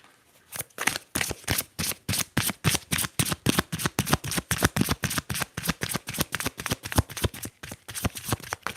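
A tarot deck shuffled by hand in a quiet room: a close, rapid series of crisp card riffles and slaps in a steady rhythm, about thirty strokes with no talking.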